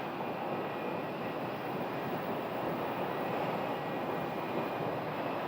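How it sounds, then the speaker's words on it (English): An Airbus airliner approaches to land at Phoenix Sky Harbor, a steady broadband jet roar with a faint high whine, fairly distant and even throughout, with no talking. "We have an Airbus coming in."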